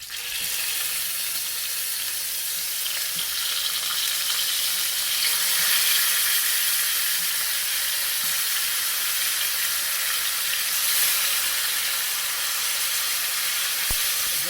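Chicken pieces searing on a scorching hot surface, a loud, dense, unbroken sizzle and steamy hiss that holds steady and close for the whole stretch, with no talk.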